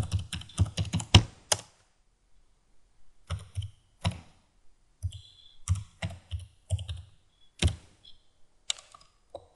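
Someone types on a computer keyboard, entering details for a survey mapfile; quick clustered keystrokes come in bursts separated by short pauses, close and clear with no talking.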